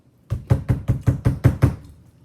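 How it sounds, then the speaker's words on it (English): Eight quick, heavy knocks bang on a door in an even rhythm, loud and close, then stop with no voices. "I'm banging on the door."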